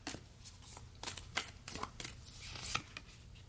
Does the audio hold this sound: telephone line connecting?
no